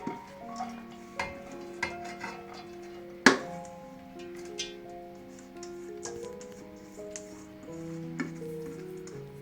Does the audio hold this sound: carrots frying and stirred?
yes